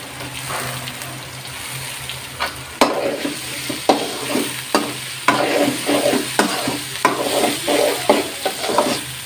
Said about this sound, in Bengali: পেঁয়াজ রসুন লাল হয়ে আসছে, এর মধ্যে চিংড়িগুলো দিয়ে দেব, একসাথে ভেজে নেব।